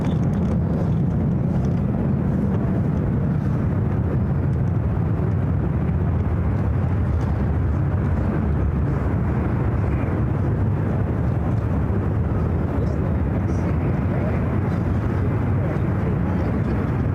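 A heavy airliner arriving on runway 28 at San Francisco International Airport makes a steady, loud low roar that holds for the whole span, with no break and no clear rise or fall.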